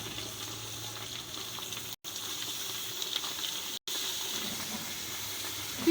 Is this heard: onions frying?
yes